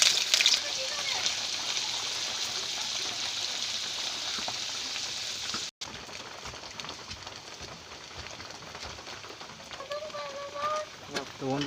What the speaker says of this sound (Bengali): প্রথম পনিরটা ভেজে নিলাম